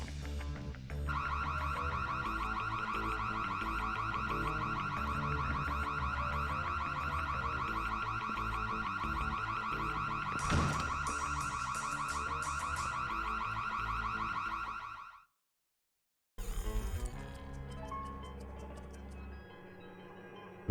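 A loud, steady electronic alarm blares continuously from the game Splinter Cell: Chaos Theory for about fifteen seconds, then cuts out abruptly before other game sounds resume.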